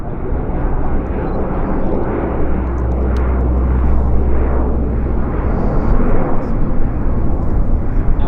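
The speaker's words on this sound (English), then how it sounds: "Staying up there, just a lot of linger time as the mighty C-130H flies over top" A Lockheed C-130H Hercules passes overhead at an RCAF air show media day during a parachute drop, its loud, steady propeller-engine roar filling the whole stretch with a broad, sustained rumble.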